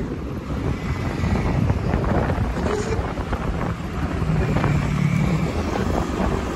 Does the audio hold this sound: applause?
no